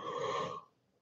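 A single breathy yawn, close and fairly soft, an airy exhale lasting about half a second before fading to quiet.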